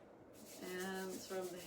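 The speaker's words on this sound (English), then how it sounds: "let's rub the hands together again" Palms rubbed together during a qigong exercise: a steady, close, soft swishing hiss lasting over a second, with a voice faintly heard over it.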